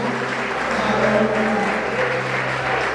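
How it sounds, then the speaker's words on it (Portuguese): A church congregation applauds loudly during worship, a continuous dense roar of clapping over steady low organ or keyboard tones, holding at an even level throughout. "Aplauda bem forte porque Ele é o nosso Rei."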